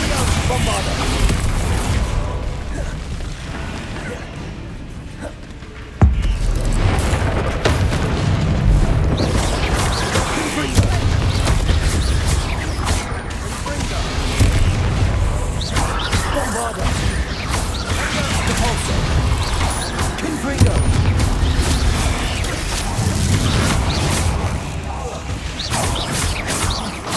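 In Hogwarts Legacy, Bombarda spell explosions go off as loud, booming blasts over the sounds of combat. A sharp burst lands at about six seconds, with crashes and rumbling impacts continuing throughout and occasional voices mixed in.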